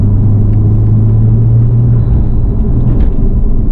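A 2017 Porsche 911 Turbo with a twin-turbo 3.8-liter flat-six produces a loud, close, steady low rumble while driving. The engine drone holds throughout with no talking.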